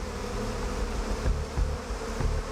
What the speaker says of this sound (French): Ces abeilles japonaises restent impassibles.